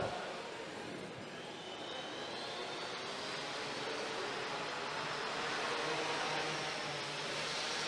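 A competition robot lifts off during a semifinal match at a robotics event, its steady broadband whir and rising tonal whine continuous throughout over a noisy arena background, with no clear talk.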